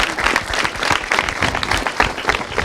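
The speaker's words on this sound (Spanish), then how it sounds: "Un aplauso." Studio audience on a Mexican TV talk show about divorce breaks into sustained applause, a thick, even roar of many clapping hands filling the room with no speech over it.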